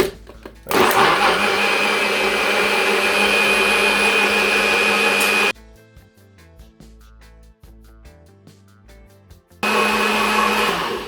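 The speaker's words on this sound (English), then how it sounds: "You don't want to blend it too long because this blender is pretty much quick." A blender whizzes through ingredients for a Jamaican summer drink, running loud and steady in two bursts, with a quieter gap of kitchen clatter in between.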